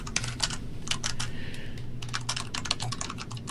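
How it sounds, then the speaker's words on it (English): Rapid clicking of typing on a computer keyboard, steady and close, over a low constant hum with no voices. "What are you typing"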